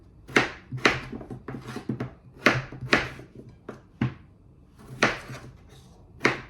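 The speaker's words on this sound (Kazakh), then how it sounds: "Енді турап, мұздай суымызға салып пісіріп алатын боламыз." A knife chops raw potatoes into pieces on a board for cooking, giving about a dozen sharp, close wooden knocks in an uneven rhythm with short gaps, and no talking.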